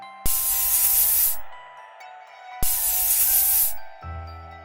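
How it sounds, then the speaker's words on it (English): A pesticide spray can lets out two loud, close hissing bursts of about a second each, with a short pause between them, aimed at ants in a Five Nights at Freddy's fan concept game, over a faint steady hum. "The player needs to spray the pesticide in small bursts"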